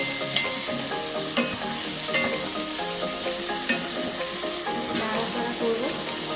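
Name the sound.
stir-frying green peas in oil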